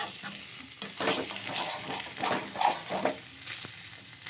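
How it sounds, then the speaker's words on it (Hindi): Potatoes fry in a pan for a spicy snack while a utensil stirs them, soft scraping strokes and bursts of sizzle repeating every second or so at a modest, close level. "अच्छे से इसको सुनहरा सुनहरा भुन जाने दीजिए।"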